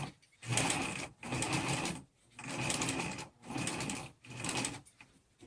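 Sewing machine stitching a fabric face mask with a zigzag stitch, running at slow speed in several steady bursts separated by short pauses, close and fairly quiet, with no voices.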